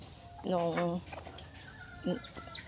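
Hens in a backyard coop give two short bursts of clucking, one longer and one brief, fairly near, with faint background noise between them.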